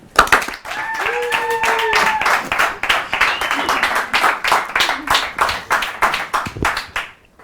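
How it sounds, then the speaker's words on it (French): Studio audience applause on a game show set as two contestants walk on, a dense, steady burst of clapping hands lasting several seconds, with a voice briefly heard over it. "Un tonnerre d'applaudissements."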